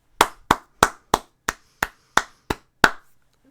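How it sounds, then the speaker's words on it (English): Nine slow, deliberate hand claps, evenly spaced, loud and close, each a sharp dry crack with a short decay, then silence. "You get a special Movies and Beyond clap."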